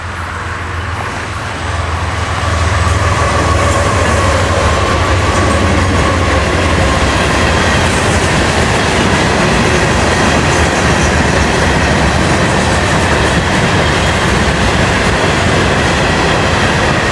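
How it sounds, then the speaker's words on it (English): Florida East Coast Railway freight train 101 rounds a curve north of Oakland Park, a loud, close, continuous roar of wagons and wheels with steady clatter and faint squeal, swelling in after a quieter first two seconds. "Later that day, train 101 rounds a curve north of Oakland Park."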